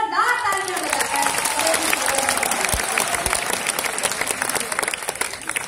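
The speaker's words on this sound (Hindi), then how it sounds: "एक बार जोरदार तालियां बजाकर" An audience applauds at a Hindi poetry recital (kavi sammelan) held at IIT Kanpur's Antaragni 2014 festival: dense, steady clapping from a large crowd continues loudly throughout, with a voice heard briefly at the start.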